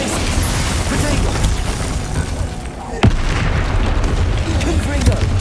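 A spell blast erupts in Hogwarts Legacy combat: a dense, roaring wash of magical explosion noise with a sharp booming hit near the middle, loud and continuous throughout.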